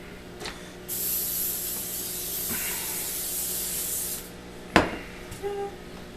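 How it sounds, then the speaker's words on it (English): An aerosol spray, used while making baking soda biscuits, hisses continuously for about three seconds, followed by a sharp knock and a few light clinks. "This is a spray."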